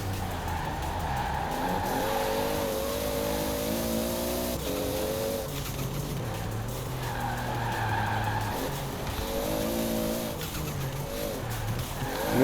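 A 1,600-horsepower turbocharged 1992 Toyota Supra 2.0 GT racing in Forza Horizon 4. The engine note climbs and drops steadily through gear changes, and tires squeal and skid over a constant, close, loud drone. No one speaks.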